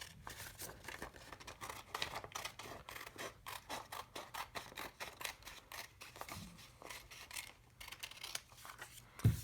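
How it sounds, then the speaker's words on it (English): Scissors snip and trim the edge of a sheet of origami paper, a quick run of close, crisp cuts with light paper rustle between them. "Grab your scissors. And then trim off this extra over on this side."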